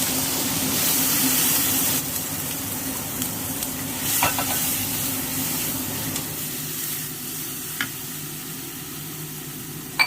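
Ground masala sizzles and fries in a pan for a Kongu-style mutton gravy, a steady hiss that eases after a few seconds, with scattered stirring clinks and a final clatter.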